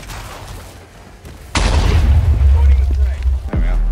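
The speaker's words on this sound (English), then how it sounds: "You just emerge from the explosion." A video game explosion erupts suddenly as a loud, deep boom that rolls on under excited players' chatter, following quieter in-game noise.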